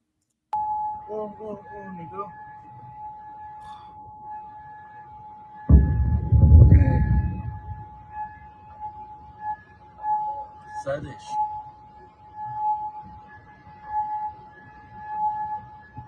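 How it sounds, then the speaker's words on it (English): Air raid sirens give a steady high beeping drone throughout, faint and distant, while people talk and a loud rumbling burst breaks in partway through. "that beeping noise is actually the sirens going out"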